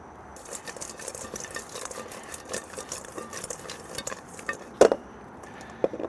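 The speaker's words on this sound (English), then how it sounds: "I'm just gonna put plain Jane barbecue sauce on these" Crispy rotisserie chicken wings from a Kamado Joe being tossed in plain barbecue sauce, a soft wet stirring and sloshing with light patter, punctuated near the end by a couple of sharper clinks, close and fairly quiet.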